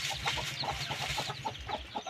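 Laying hens and native chickens cluck in a rapid run of short, overlapping calls, fairly faint and close together, with no one talking.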